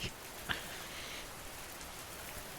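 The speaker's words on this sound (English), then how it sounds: "Only the rain spoke now" Soft, steady patter of rain with a few sharper drops standing out early on, quiet and continuous, with no voices.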